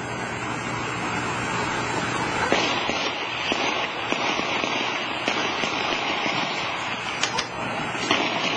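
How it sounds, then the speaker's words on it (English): Explosions and gunfire echo down a street in Watertown near Boston during a night of rifle and pistol shots, heard as a steady crackling roar with scattered sharp reports and brief bangs throughout. "There's explosions and gunfire going on down the street."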